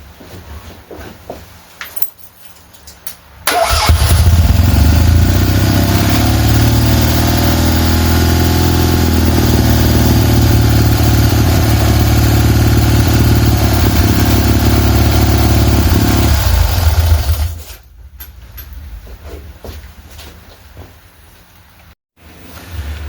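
A tuned Fiat 126 engine mounted in a Fiat 500 starts and runs steadily for about thirteen seconds, a loud, continuous low mechanical drone, then cuts off, leaving quieter garage room sound.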